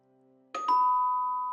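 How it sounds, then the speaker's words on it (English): A doorbell chimes once with a two-tone ding-dong that rings out and lingers, clear and close in an otherwise quiet room. "The doorbell."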